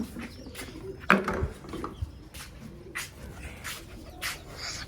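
Soft, low pigeon coos sound intermittently amid quiet outdoor ambience, with a brief louder knock or flutter near the start.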